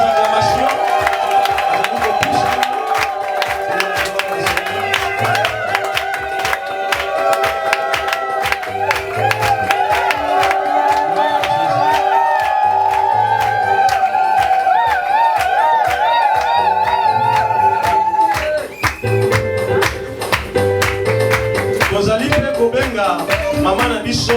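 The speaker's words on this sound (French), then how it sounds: "Sous vos acclamations." A church congregation cheers and acclaims during a deacon installation and consecration service, a loud sustained crowd din with whoops and scattered clapping, steady over about twenty-four seconds with a brief dip near the end.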